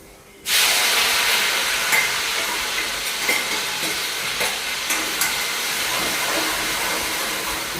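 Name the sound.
cumin, chilies, garlic and ginger added to hot pan, sizzling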